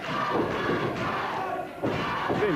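Wrestling arena crowd shouting and roaring at a Sheepherders match, a dense near wall of voices with a few heavy thuds from the ring, a brief dip, then the noise surges back.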